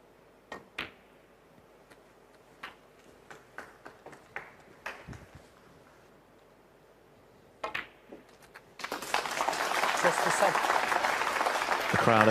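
Spectators at a snooker match applaud: scattered single claps and knocks give way to a sustained burst of clapping that builds and keeps going at the end.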